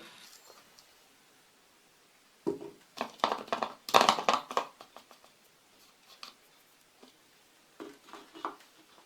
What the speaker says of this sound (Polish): Do dużego słoja wrzucam mąkę.